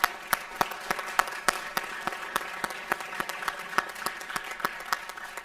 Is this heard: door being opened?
no